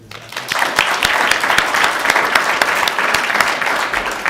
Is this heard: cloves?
no